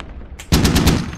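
A burst of heavy machine gun fire from an AAV in the infantry shooter Squad, opening after a brief quiet with a loud, close, rapid string of about five heavy shots, booming and evenly spaced, with no talking.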